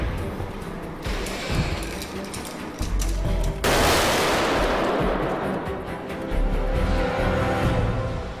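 Loud bursts of gunfire on the set of Iron Man, a sharp blast near four seconds swelling into a dense, sustained roar, with rumbling shots and clatter continuing around it.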